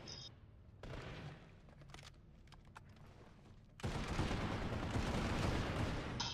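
Gunfire in a video game: a few sharp, scattered shots and clicks at moderate volume, then a loud, continuous roar of sustained firing that runs to the end, with no voices.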